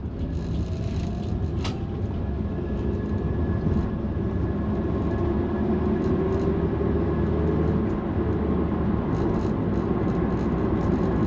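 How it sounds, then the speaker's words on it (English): Wind noise fills the cabin of a Nissan S-Cargo while driving, a steady broad roar with low road rumble, constant and moderately loud with no talk. "the wind noise in here isn't very deafening"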